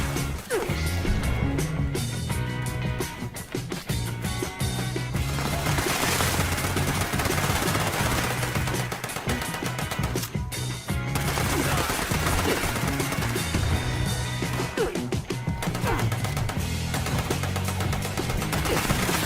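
Rapid, dense bursts of a two-shot explosive gun fired at super mutants in Fallout 76, loud and continuous, with booming impacts layered over the shots and only brief pauses.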